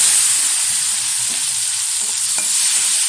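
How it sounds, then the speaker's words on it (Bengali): Sugar and chopped tomato frying in hot oil during a home-style egg curry, a steady close sizzle with faint stirring scrapes throughout and no talking. "এখন এই তেলে দিয়ে দেবো কিছুটা পরিমাণে একটু চিনি, দিয়ে দিচ্ছি কেটে রাখা একটা টমেটো।"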